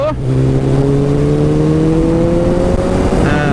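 A motorcycle engine revs up close by as it accelerates to overtake on the road, its pitch climbing steadily, loud and continuous.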